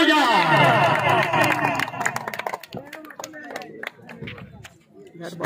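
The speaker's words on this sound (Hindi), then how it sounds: "एक दफा जोरदार तालियां" A crowd at a volleyball trophy ceremony breaks into scattered clapping, sharp uneven hand claps that thin out over a few seconds, with a voice and crowd chatter over them.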